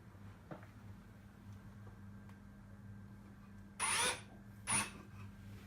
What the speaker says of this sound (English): I haven't drilled the hole very deep